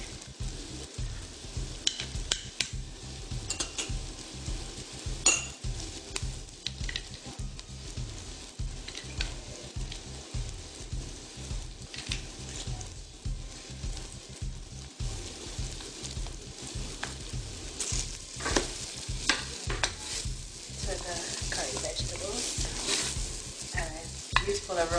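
Crushed garlic hits a hot frying pan and sizzles steadily, with a spoon scraping and stirring in repeated strokes at close range, the frying hiss continuous and fairly quiet with no talking.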